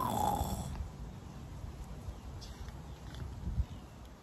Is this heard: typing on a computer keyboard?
no